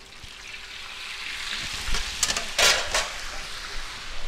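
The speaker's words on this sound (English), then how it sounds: "we're gonna gently bring it to our hot oil" Tex-Mex food is lowered into hot oil in a pan, a steady soft sizzle building into louder bubbling bursts of frying as it hits the oil, close and without talk.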